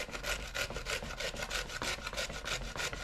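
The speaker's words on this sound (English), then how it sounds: "we're gonna hit them with that grater" Peeled vegetables rasped against a metal grater, a brisk even rhythm of scratchy strokes, about four per second, close and moderately loud with nothing else heard.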